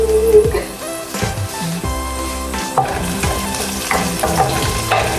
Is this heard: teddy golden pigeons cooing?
no